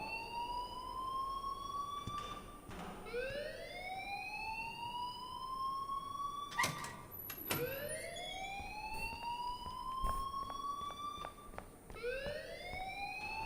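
An electronic alarm in the video game Life is Strange repeats rising whooping sweeps over and over, loud and steady, with a few sharp clicks and thuds mixed in.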